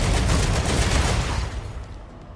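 Rapid automatic turret fire in a video game, a dense loud burst of shots that fades out over about two seconds with no voices.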